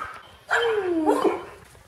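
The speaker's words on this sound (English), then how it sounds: "Rex, Rex, we're going to be hearing you during that whole shot of the video. What is wrong with you, dog?" A pet dog gives a single drawn-out whining bark or yelp that bends downward in pitch, moderately close and standing out briefly against a quiet indoor background with no talking.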